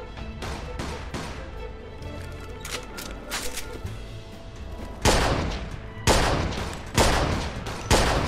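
Rapid gunfire in the Mafia 2 video game while the player runs, a dense spray of shots under a constant din, then three loud, sharp bursts near the end.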